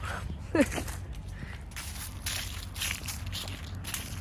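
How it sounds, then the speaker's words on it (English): Footsteps crunch through dry fallen leaves on an outdoor walk, a soft, steady rustling and crackling at low volume with one slightly sharper step near the start. "Anybody else like crunching leaves?"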